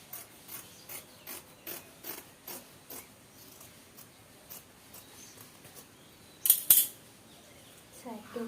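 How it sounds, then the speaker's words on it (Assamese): Scissors cut along the side seam of an old T-shirt while making a cushion, a steady series of crisp snips near and moderately quiet, with a louder rustle and clatter near the end. "ছাইডটো কাটি ইফালে এতিয়া মই এয়া এফালেও ছাইডটো কাটি লওঁ"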